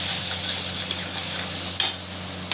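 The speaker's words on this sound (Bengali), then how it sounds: "এবার একটু নাড়ছি।" A spoon stirs a Bengali fish oil curry (macher tel tarkari) in a pan, with soft scraping and a few light metallic clinks over a low steady sizzle.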